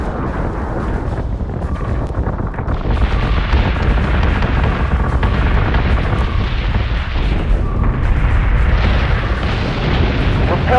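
Mortar blasts rumble through a starship corridor in the video game Battlestar Galactica Deadlock, heavy booming explosions rolling over one another in loud, dense waves with a constant low roar underneath.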